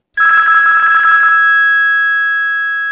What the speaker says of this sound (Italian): mi sta squillando il telefono